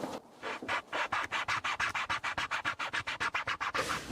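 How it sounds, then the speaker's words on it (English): A chainsaw file rasps nocks into an ash longbow in quick, even back-and-forth strokes, about twenty rhythmic scrapes, close and fairly quiet. "I got a chainsaw file. I'm just going to file some nocks into this."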